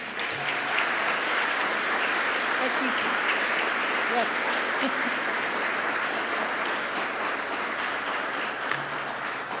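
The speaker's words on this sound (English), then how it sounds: "Please give them a round of applause." A large audience at a Houston mayoral candidate forum applauds steadily for about ten seconds as the two candidates come to the podium, the clapping sustained throughout while a voice briefly speaks over it.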